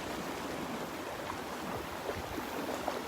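Ocean surf breaks on a beach at Delnor-Wiggins on a day of bigger waves, a continuous broad roar of rushing water with no voices.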